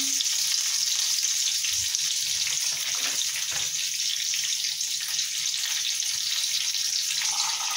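Curry leaves sizzling in hot oil for rava upma, a steady bright frying hiss throughout with faint low clinks in the background, no voices.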